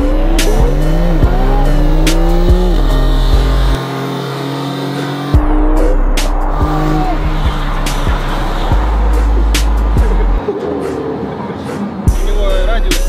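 A Lamborghini races from the start with engines revving up and down and tires squealing, loud and close throughout, with people talking over it.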